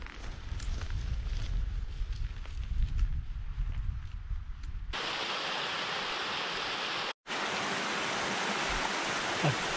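Steady broadband rush of a waterfall pouring into a plunge pool at Haweswater in the Lake District, continuous and fairly close, rising to a brighter, louder roar midway with a brief dropout.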